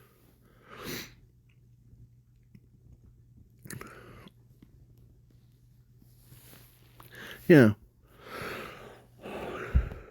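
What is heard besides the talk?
blowing nose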